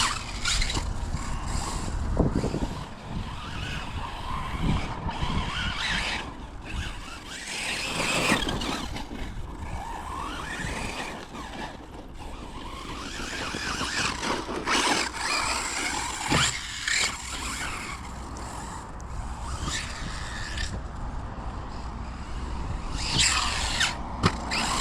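Hobao 10 TT RC buggy with a 4250kv motor driving flat out, a continuous whining, squealing electric drone with surging pitch and scrabbling tyre noise, fairly close throughout.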